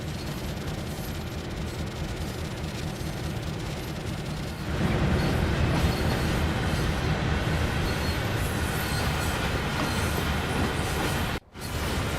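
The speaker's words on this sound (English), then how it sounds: "We're not going to be holding up the passenger train here." A passenger train rumbles past on the Morristown Line in Train Sim World 6, its loud, steady roar of wheels and cars jumping up partway through and holding steady, with a brief dropout near the end.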